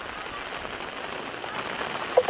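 Heavy rain pours down steadily in a village, an even, dense hiss of drops on the ground, with a couple of brief faint knocks near the end.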